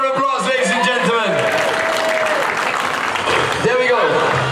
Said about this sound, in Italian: Give them a big round of applause, ladies and gentlemen.